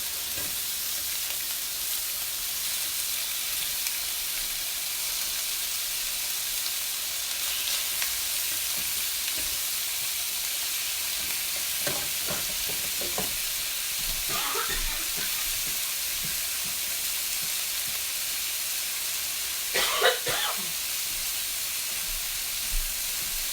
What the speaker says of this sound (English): You want it to sizzle pretty good when you put it in there.